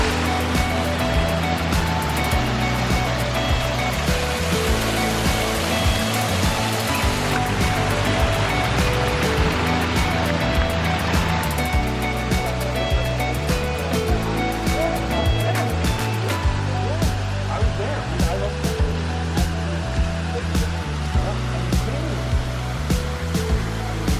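Backyard pond garden waterfall with a 30-foot drop, a steady loud rush of falling water that hisses and roars continuously throughout.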